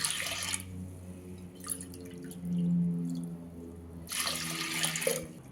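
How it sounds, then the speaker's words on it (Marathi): Water streams into a metal pressure cooker of dal in two short bursts with dripping in between, over a low steady hum, with no voices. "मी आता दोन वाट्या पाणी घालणार आहे त्याच्यामध्ये"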